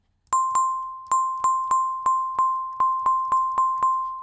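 A bright FM bell synth patch from Operator's sample module strikes eleven clear dings in an uneven rhythm. Each note has a sharp transient and decays quickly, and nothing else is heard.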